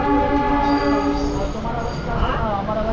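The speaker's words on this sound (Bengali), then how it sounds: "ভার্সই জংশন থেকে আমাদের ট্রেন এখন ছেড়ে দিল।" A local train pulls out of a junction station on a line toward Radhikapur, a loud, steady rumble of rolling wagons heard from inside with a sustained horn-like tone running through it.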